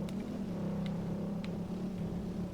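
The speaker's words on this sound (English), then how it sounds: "this engine sounds like it's struggling up here." A car engine in the Test Drive Unlimited racing game drones steadily as it labours uphill, with a low, constant strain throughout and no talking.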